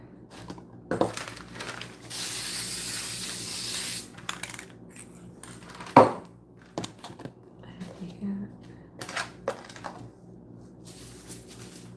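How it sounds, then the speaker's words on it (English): A spray can hisses in one steady burst lasting about two seconds while small figures are painted, close by, surrounded by handling clicks, a sharp knock and brief rustles. "These last little 4 are going to get sprayed."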